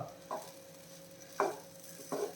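Wheat rava and grated coconut being stirred together in a hot pan, with three short scraping strokes of the spoon over a faint sizzle, close and fairly quiet.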